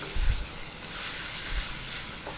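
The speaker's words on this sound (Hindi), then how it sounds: "लीजिए, इसको थोड़ा भूनेंगे इसमें।" Spinach and corn sizzling gently in oil in a pan, a soft, steady crackle and hiss with faint stirring, quiet and close.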